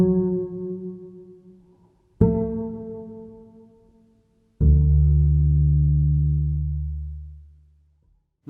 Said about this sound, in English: Firstly, I have a reverb pedal, which makes a nice washy sound and allows me to play really long notes